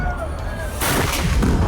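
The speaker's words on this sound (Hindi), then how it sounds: "पुलिसकर्मी दौड़ दौड़ कर तोप में गोला भर रहे थे और आग से तोप को फायर कर रहे थे।" Ceremonial cannons fired by police in a 21-gun salute to Lord Krishna at a Janmashtami celebration, a centuries-old tradition; a loud, close, rumbling blast bursts in partway through over crowd noise and voices.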